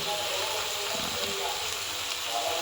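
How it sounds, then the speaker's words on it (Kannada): Garlic paste and turmeric powder fry in a pan with a steady, close sizzling hiss that runs unbroken throughout, as in a home gravy preparation. "ಚೆನ್ನಾಗಿ ಒಂದು ಸ್ವಲ್ಪ ಫ್ರೈ ಮಾಡ್ಕೋಬೇಕು"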